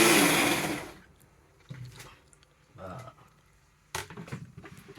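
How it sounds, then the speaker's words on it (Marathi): A mixer grinder whirs loudly while grinding Goan pork vindaloo masala, then winds down and stops within about a second. A person then speaks in short bursts while faint kitchen sounds continue. "मिक्सर आहा रेडी जाता, मसाला दाखयता तुमकां"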